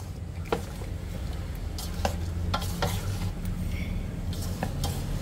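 Okra and tilapia are being stirred in a cooking pot for pinangat, giving soft scraping and clinking under a steady low simmering hiss, with a few sharper utensil knocks against the pot.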